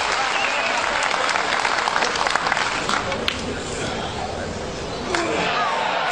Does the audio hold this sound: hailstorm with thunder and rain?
no